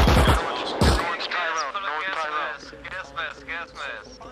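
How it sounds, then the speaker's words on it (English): Sharp bursts of gunfire crack at the start in ARMA Reforger, then a person talks excitedly while faint shots and game sounds continue underneath. "Taking gunshots from Tyrone."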